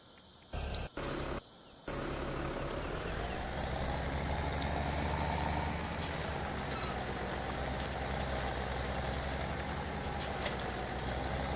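A tractor engine in Farming Simulator 17 runs in a steady, continuous drone with a low rumble, heard close and alone after a couple of brief cutouts at the start.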